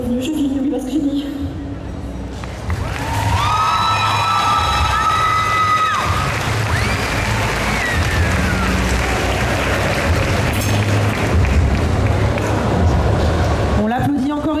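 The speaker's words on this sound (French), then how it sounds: "On l'applaudit encore une fois" An audience at a cosplay contest at TGS Toulouse 2022 breaks into loud applause and cheering for a Genshin Impact cosplayer, sustained crowd noise with shouts and whistles rising after a brief musical tail.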